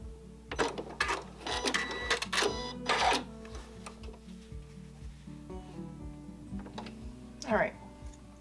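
A sewing machine stitches a fabric hair scrunchie in short rapid bursts of mechanical whirring and ticking, with pauses between runs and faint background noise.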